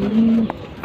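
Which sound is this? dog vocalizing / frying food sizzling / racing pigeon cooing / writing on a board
racing pigeon cooing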